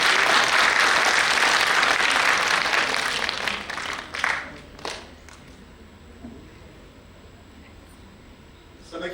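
Strong applause from a theatre audience rises in a dense wash, then thins over a few seconds into scattered final claps and quiet room noise.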